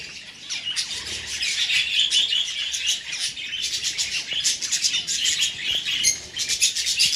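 Birds kept in aviaries chirp and tweet continuously, a dense chorus of overlapping high calls with occasional squawks, fairly close and steady throughout, with no voices.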